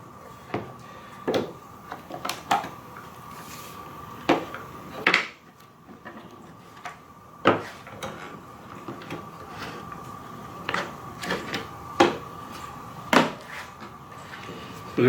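Plastic housing of a Blue Clean 383 electric power washer being pried apart after its screws are removed, giving a scattered series of clicks, snaps and creaks at close range over a faint steady hum, with no talk.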